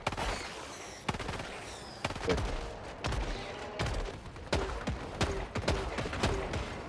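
Weapons firing in the video game Helldivers 2: rapid bursts of crisp gunshots and booming blasts in uneven volleys, loud and close, with mechanical clanks between shots.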